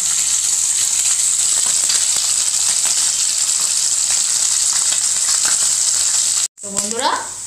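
Morola fish sizzle in hot oil, a loud, continuous close-up hiss and spatter that holds steady for several seconds before a brief cut and a different, changing sound at the very end.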